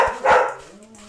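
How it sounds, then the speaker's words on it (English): Dogs bark a few times in quick succession, loud and close, during a lively indoor livestream drawing, with people chatting and laughing nearby. "We got my dogs."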